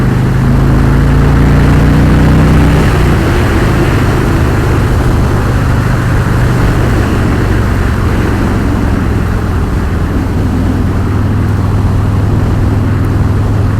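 Harley-Davidson Road King motorcycle engine while riding, a loud, steady low rumble with heavy wind roar, a brief pitch change early on, then a constant drone throughout.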